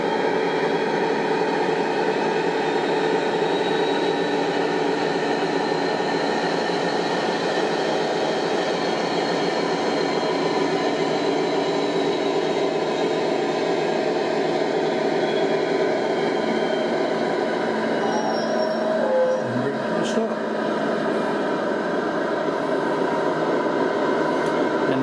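Heljan Class 56 model diesel locomotive running on a Loksound V5 XL sound decoder, giving a steady loud engine drone with throttle changes and a brief click near the end, and no talking.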